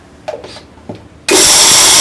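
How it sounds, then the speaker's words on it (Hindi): A kitchen mixer grinder starts up loud and whirs steadily, grinding cooled soybean dal into flour, after a few faint handling clicks. "हमें मिक्सी में इसको पीसना है।"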